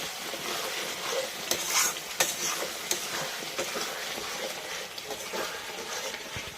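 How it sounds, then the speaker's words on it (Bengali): Spice masala fries and sizzles in a pan for a spicy rohu fish curry, with repeated scraping and clattering of a spoon as it is stirred up close, and no talking. "ঢাকাটা তুলে একটু নাড়াচাড়া করে কষা কষা মশলাটা কষায় নিয়ে তারপরে মাছটা দিব"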